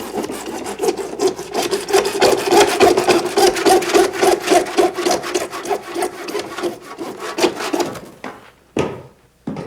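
A hand saw cuts through a pipe in steady, rapid back-and-forth strokes that rasp loudly and close up for several seconds, then slows to a few final strokes as the piece comes free, with no talking.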